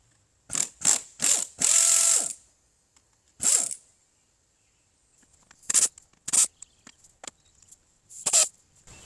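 A ratchet wrench clicks in quick bursts on a bolt holding a car radiator, a Mitsubishi Eclipse GSX part, with a cluster of rapid ratcheting early on, a pause, then scattered short clicking strokes close by with no talk.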